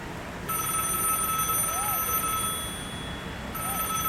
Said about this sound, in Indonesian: Aku coba telepon.